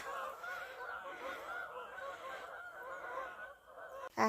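Geese that flew in from Africa honk continuously at close range on a cold Swedish garden farm, overlapping calls forming a loud, busy chorus that ends in a brief sharp knock.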